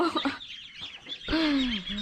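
Chickens cluck and squawk close by, a busy flock sound with one rising, drawn-out call near the end.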